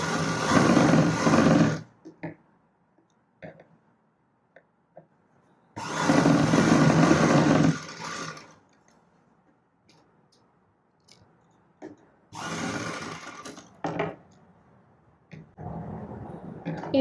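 A sewing machine stitches a blouse seam in three separate loud bursts of steady whirring, each about two seconds long, with quiet gaps of handling between them.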